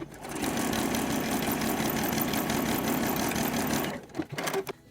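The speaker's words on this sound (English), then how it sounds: "I'm going to fold my fold over elastic in half and just top stitch it down" A sewing machine top stitching folded fold over elastic runs in a steady, continuous whir for about four seconds, then stops, leaving a few faint clicks and handling noises.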